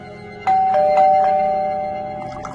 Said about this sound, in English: she rang the bell again